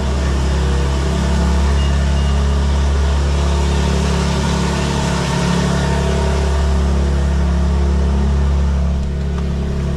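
A 2024 BMW M4 Competition G82 cold-starts with its exhaust valves closed, settling into a loud, steady, deep idle drone that holds throughout without voices.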